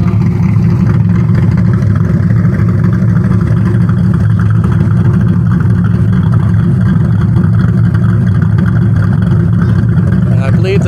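A V8 with an Anderson N41 cam and Spintech mufflers idles and revs in a loud, steady, choppy rumble that holds for the whole stretch, close to the microphone.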